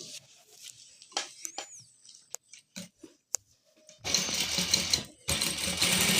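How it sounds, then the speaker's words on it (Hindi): A sewing machine stitches layered fabric pieces for a dress neckline with fusing underneath, running in two loud sustained bursts of rapid chattering after a stretch of quiet handling clicks and rustles. "अब हम इसको करते हैं स्टिचिंग।"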